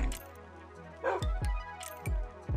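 A dog barks several times in quick, uneven bursts, fairly close, with Minecraft game background noise between barks.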